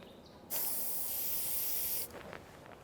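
An airbrush sprays paint in one sustained hiss lasting about a second and a half. It is close and steady with brief quiet lead-in and tail and no talking.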